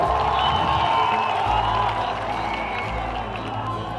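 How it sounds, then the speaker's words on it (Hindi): Applause and cheering from a crowd at a BJP political rally in Jamui, a dense sustained roar of clapping that eases slightly toward the end. "मित्रों, इनके स्वागत में हम लोग एक बार पुरजोर तालियों के साथ इनका स्वागत करें।"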